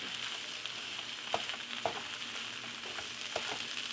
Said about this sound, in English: And let's get in that yummy sausage. Stir it.